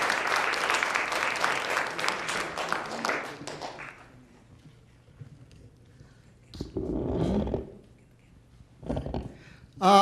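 Applause from an audience at a commemoration event at Stony Brook fills the first four seconds with dense clapping, then fades, leaving quieter stretches with a few later bursts of noise.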